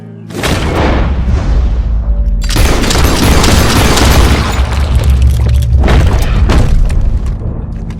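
Gunshots in Red Dead Redemption 2, loud booming blasts with long rumbling tails, several heavy shots in succession over a dense, noisy game soundscape.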